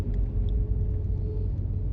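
Car driving through downtown Tampa toward I-275 south, heard from inside as a steady low engine and road rumble at moderate level, with no talk over it.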